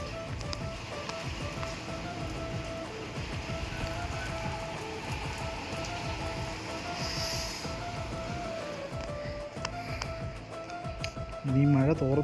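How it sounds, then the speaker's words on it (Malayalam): Steady rain falls in a continuous hiss, with some low rumbling beneath and people talking over it. "നമ്മൾ പോകാൻ ഇറങ്ങിയപ്പോഴത്തേക്ക് നല്ല മഴ."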